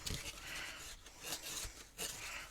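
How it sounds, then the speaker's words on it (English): A paper card being burnished, with soft, quiet rubbing and scraping strokes in a few repeated passes, close up and faint. "I'm going to actually turn it on the opposite side and give everything a really good burnish"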